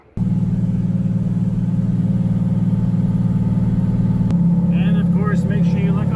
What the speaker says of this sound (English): So I'm gonna fire it up again, let it idle, let it warm up a little bit